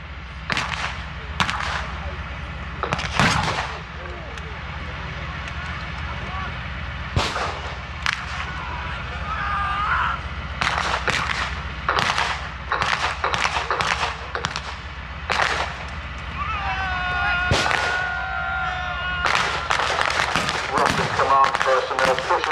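Battle reenactment at an outdoor military show, with Russian artillery and infantry firing: sharp gunshots and cracks come in irregular bursts and clusters, some rapid volleys, over a steady background rumble, with a loudspeaker commentator talking at times.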